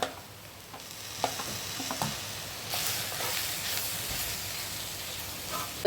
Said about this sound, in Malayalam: നമ്മൾ ഈ കുമ്പളങ്ങ അതിനകത്തോട്ട് ഇട്ട് ഒന്ന് വേവിച്ചെടുക്കാം